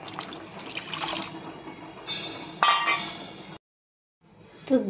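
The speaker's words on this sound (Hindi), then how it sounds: "बस ऐड कर देंगे पानी।" Water poured into a pan of fish masala gravy, a broad splashing pour running for several seconds, then a brief gap and a short final splash close by.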